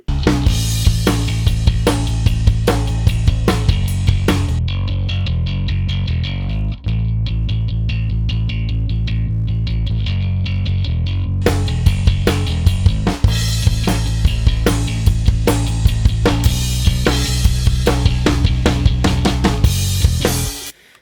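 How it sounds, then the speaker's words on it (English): A loud full-band rock mix driven by a gritty, growling Music Man Stingray electric bass with a metallic edge, steady drums pounding throughout, no talking. "that is the sound of a Music Man Stingray"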